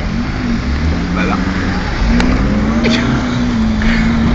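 A Fiat Panda engine idles with a continuous low rumble throughout, with faint scattered noises on top and no clear revving, in Milan.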